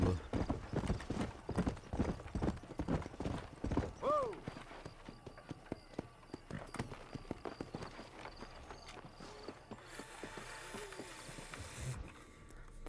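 Horse hooves clip-clop steadily in the Red Dead Redemption video game, brisk at first and then slowing, with a short whinny partway through and soft talk underneath.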